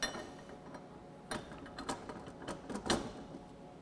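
Wrench clicks and metallic clinks while tightening a tool holder clamped in a vise for a Haas machining center, a few scattered sharp ticks at close range with no talking.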